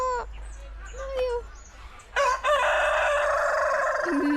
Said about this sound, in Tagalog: Ang laki nung manok